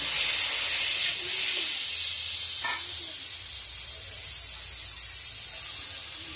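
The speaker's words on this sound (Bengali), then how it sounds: "একটু ভেজে নিচ্ছি, হালকা ভাজতে হবে।" Pieces of pointed gourd frying lightly in hot oil make a continuous close hiss and spray, fairly loud and even from start to finish, with no voices.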